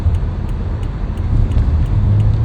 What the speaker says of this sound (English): Oh, more traffic.